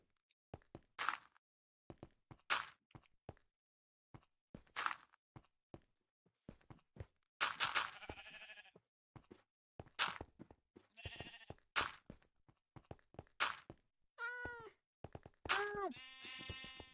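Sheep bleat repeatedly in a Minecraft hardcore world, short wavering cries spaced a second or two apart and growing busier toward the end, mixed with footsteps and game thumps, fairly close and clear.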